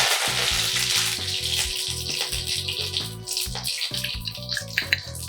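Asafoetida, mustard seeds and curry leaves hit hot oil for misal pav, giving a loud, bright crackling sizzle that runs steadily throughout, close up, with a faint low rhythmic hum beneath and no speech.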